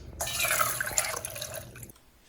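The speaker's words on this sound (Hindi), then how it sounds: "एक छन्नी में इसे डाल के इसका पानी निकाल के लेती हूँ।" Water pours and drains from soaked sago pearls in a kitchen strainer, a steady close splashing trickle that runs for about two seconds before tapering into a few faint drips.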